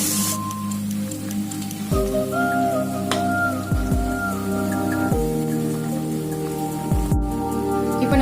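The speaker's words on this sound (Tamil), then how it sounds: "இப்போ நம்ம இந்த பீஸை இதில் போட்டு எடுத்து எண்ணெயில் போட்டு எடுத்துக்கலாம்." Bread pakora pieces fry in hot oil with a steady, dense crackling sizzle that runs throughout, close and fairly loud, with a few clinks of utensils over it.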